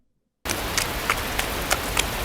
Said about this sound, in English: Trying to shield myself from the wind and rain, I stoop over as I walk.